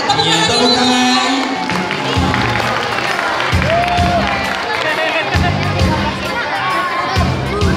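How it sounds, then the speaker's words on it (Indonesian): Audience at a children's Muharram school event claps and cheers loudly and continuously, with children shouting and crowd babble throughout, while someone speaks over a microphone. "Ya, tepuk tangan."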